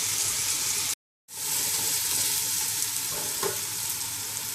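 Onions frying in a pan until they turn brown for a restaurant-style vegetable biryani. A steady, loud sizzle crackles throughout, broken by one short silent gap near the start, with no voices.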